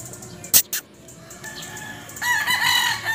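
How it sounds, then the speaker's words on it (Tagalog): A Boston Roundhead broodcock rooster crows once, nearby, after a couple of sharp clicks, its harsh harmonic call rising over a quiet backyard. "Ito naman yung broodcock na Boston Roundhead."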